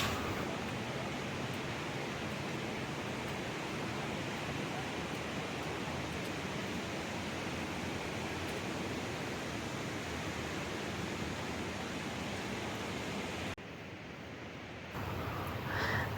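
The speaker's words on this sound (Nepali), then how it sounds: "यो दाहिनेपट्टि चाहिँ दुधकोसी नदी भने देब्रेपट्टि चाहिँ भोटेकोसी आइरहेको छ।" Two Himalayan rivers, the Dudh Koshi and Bhote Koshi, rush together below the Hillary Bridge on the Lukla–Namche Bazaar trek, making a steady, loud broadband roar of whitewater with a brief dip in level near the end.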